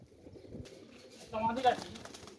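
Pigeons coo softly against a quiet background, with a louder throaty coo swelling near the end and faint murmuring around it.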